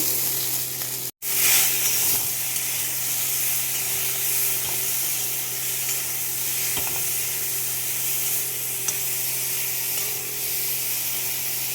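Silver carp pieces fry steadily in hot oil, giving a loud, continuous close-up sizzle and hiss with a brief dropout early on and no talking.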